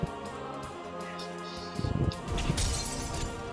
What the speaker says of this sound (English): Broke the glass